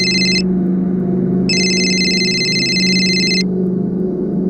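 A mobile phone rings with an incoming call, two bursts of a bright electronic ringtone over a steady low background hum, with no voices.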